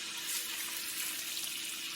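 A quarter cup of water is poured into a pan with demi-glace, giving a steady hissing splash for about two seconds, close and continuous, with no voices.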